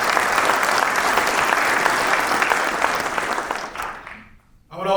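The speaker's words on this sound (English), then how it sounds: "Please give yourselves a round of applause." Loud, dense applause from a police academy graduation audience fills the hall, holding steady before tapering off and briefly swelling again at the end.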